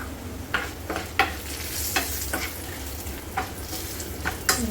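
Turmeric goes into a raw mango curry in a pan, a close frying sizzle under repeated stirring strokes that scrape and tap the pan at an uneven rhythm, with no talk.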